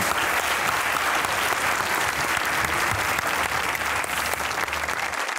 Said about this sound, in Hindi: सलमान गिलानी साहब के लिए तालियां।